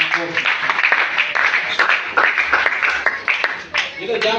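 A church congregation applauds together in dense, sustained clapping that runs steadily throughout, mixed with voices and cheering.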